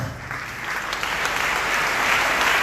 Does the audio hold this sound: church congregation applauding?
yes